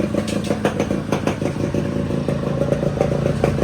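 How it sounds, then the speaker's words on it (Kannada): Yamaha RXZ 5-speed motorcycle engine, freshly restored, running loud and close with a rapid two-stroke clatter and slightly uneven revs, no voices over it. "ನೋಡ್ರಪ್ಪ, ಫೈನಲಿ ಸ್ಮೋಕಿನ ಸ್ಟಾರ್ಟ್ ಮಾಡ್ತಾ ಇದೀವಿ."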